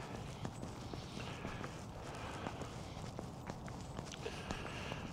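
Dottie, a 26-pound dog, trots ahead on an outdoor walkabout in Quartzsite, her footsteps a steady light patter mixed with the walker's own steps over continuous wind-like outdoor noise.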